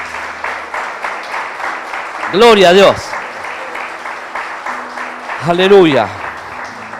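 A church congregation at a Sunday service claps steadily in a dense wash of applause for Jesus, while a preacher shouts short praises twice over it.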